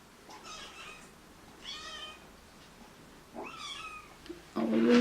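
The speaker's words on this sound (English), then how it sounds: "this is the most they've meowed actually." Several small kittens meow in short, high, separate cries close by in a quiet room, with a clatter near the end.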